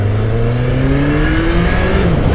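A 1985 Suzuki GSX-R750 motorcycle engine revs up close and loud, its pitch climbing steadily over a couple of seconds before easing off slightly.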